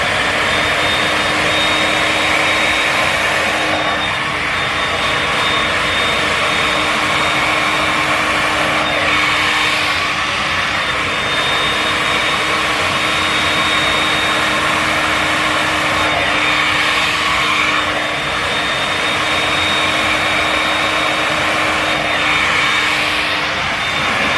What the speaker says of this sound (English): So I'll show you basically this versus like just regular blow dry.